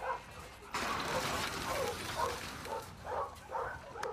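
A dog in The Last of Us Part II gives soft whimpers and short yips in a quick irregular series, close and moderately loud, with faint voices underneath.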